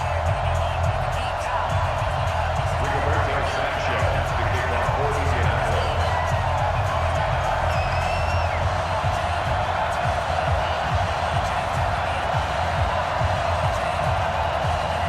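A video-game stadium crowd at a Madden NFL football game between the New York Jets and Indianapolis Colts keeps up a steady, dense roar that holds at an even level throughout, with no distinct cheers standing out.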